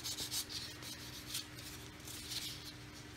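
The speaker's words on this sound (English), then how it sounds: "I'm going around now with a fine sander just to make sure there's a little bit of a nib left on there." Small plastic model kit parts are sanded with a fine sander in short, repeated scratchy strokes, a faint close rubbing rasp that comes in uneven bursts, with no talking.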